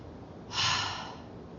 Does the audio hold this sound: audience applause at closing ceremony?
no